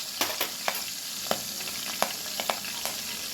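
Cinnamon, cardamom, clove and curry leaves sauté in oil left from frying eggplant, giving a soft steady sizzle punctuated by sharp spoon-on-pan scrapes and taps while being stirred.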